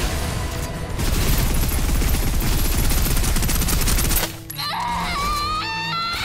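Sustained suppressive fire in the video game Snowbreak: Containment Zone, a dense, loud, continuous automatic burst lasting about four seconds that then cuts to quieter game effects with rising electronic tones.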